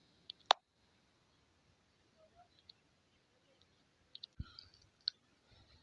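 A computer mouse clicking a send OTP button: a few sharp, isolated clicks separated by near-silence, one early and a short cluster a few seconds later, quiet and close.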